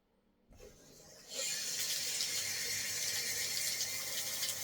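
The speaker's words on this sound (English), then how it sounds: "You're going to go and turn on your water tub here" Water gushing from a tap into a bathtub, starting after a short quiet moment, then swelling into a loud, steady, broadband rush that runs on without pause.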